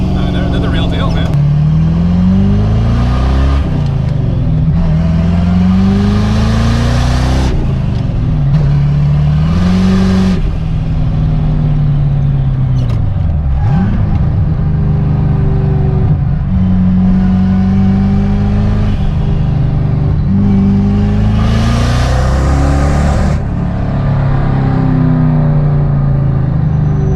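A Rolls-Royce engine revs hard with its wastegates opening, a loud, continuous roar that rises and falls in pitch through repeated throttle blips, with bursts of hiss and whoosh between pulls.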